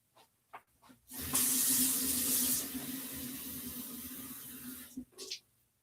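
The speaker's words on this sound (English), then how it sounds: "I'm just going to get water." Kitchen tap running water into a glass, a steady close hiss that starts strongly, settles into an even stream, then cuts off, with no voices over it.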